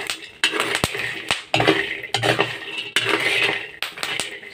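A metal utensil clatters and scrapes against a pan as cacao beans are roasted for tablea, producing repeated loud, close scraping strokes broken by sharp clanks in an irregular rhythm.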